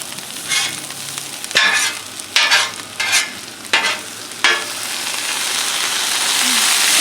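Cabbage fries on a Blackstone griddle while a spatula stirs it in several sharp scraping strokes over a constant sizzle that swells louder toward the end, with no talk.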